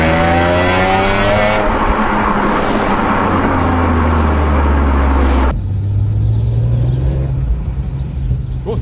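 BMW M3 engine accelerating hard up a wet mountain pass in rain, a loud continuous rising roar heard from on board, with an abrupt shift in tone partway through.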